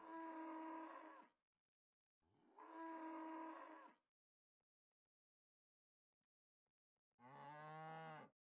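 Cows moo in the video game Asheron's Call, three long, loud lowing calls close by, each lasting over a second and separated by silent gaps, with no talk.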